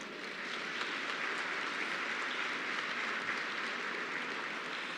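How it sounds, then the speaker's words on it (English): A crowd at a Vietnam veterans pinning ceremony gives a sustained round of applause, a thick, even wash of many hands clapping at a steady level without a break. "Let's give them all a big round of applause."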